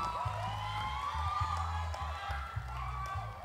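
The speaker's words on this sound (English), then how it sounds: "A huge round of applause to all our top" An audience at a male pageant show, the Mega Mister North East contest, cheers and applauds, with whoops and shouts over a continuous crowd roar while a host's amplified voice carries on top.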